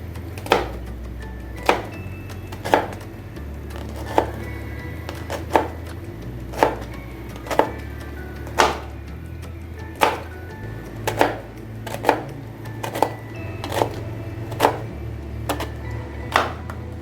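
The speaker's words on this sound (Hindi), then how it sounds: "तो देखें ऐसे अल्हम्दुलिल्लाह हम सारी जो है बंद गोभी काट लेंगे।" A knife chops through cabbage on a board in slow, even strokes about once a second, each a crisp close knock, steady for the whole stretch with no voices.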